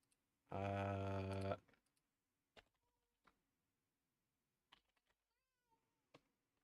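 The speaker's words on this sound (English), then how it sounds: "My cat is screaming at me." Pet cat lets out one long, loud, harmonic meow close by, followed by scattered faint keyboard typing and clicks in a quiet room.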